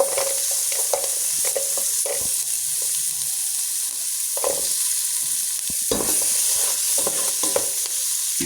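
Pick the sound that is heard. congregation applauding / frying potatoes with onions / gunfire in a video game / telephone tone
frying potatoes with onions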